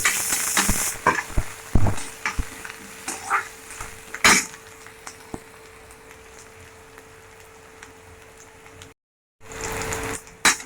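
Finely chopped ginger stir-fried in a pan for street-style veg momos, a quiet crackling sizzle under sharp clinks and scrapes of a spoon against the pan, near and without talking.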